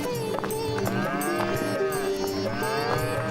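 A pair of bulls on a village road moo loudly and continuously, long low bellowing calls overlapping close by, with no speech.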